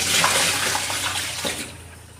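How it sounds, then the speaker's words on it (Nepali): Used washing water being poured out, a loud continuous splash and gush for about two seconds that tapers off toward the end, with no talk. "यो धोको पानी सर फाल्दिनु"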